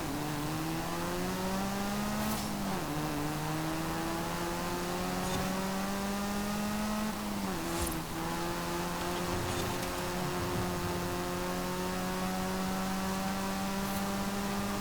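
A Hyundai concept race car in the Forza Horizon 5 racing game holds a loud, steady engine drone that climbs in pitch, drops briefly at two gear shifts and climbs again, with no talk over it.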